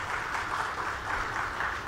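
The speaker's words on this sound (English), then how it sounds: "Let us welcome Ashish with a thunderous applause." Steady, dense applause from a conference audience welcoming a speaker onto the stage at a corporate event in Mumbai, sustained and even for its whole length with no voices over it.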